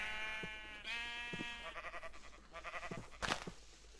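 Sheep in the Minecraft video game bleat several times in a row, short wavering cries repeated close up with a sharper hit near the end, no talking over them.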